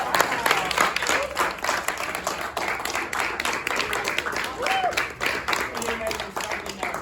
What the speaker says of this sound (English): Can we give a round of applause for our host for even having us here tonight?